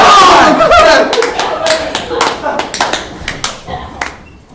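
A crowd at a varsity Overwatch 2 esports match between Cardiff and Swansea roars and cheers loudly at first. The noise then settles into scattered, uneven clapping and shouts that slowly fade.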